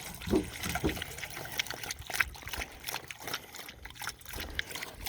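Water poured out for dogs to drink outdoors at Black Canyon of the Gunnison, an irregular splashing trickle with a few louder spurts, fairly close.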